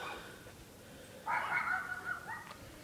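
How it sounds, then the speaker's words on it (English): Dogs bark from a middle distance in a short burst of two or three yaps, then a fainter bark near the end, over a low background rumble. "Crazy dogs."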